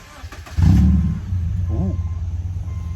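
A $500 used car's engine cranks and fires up, a loud catch followed by a steady idle with faint exhaust rumble; a brief voice briefly overlaps.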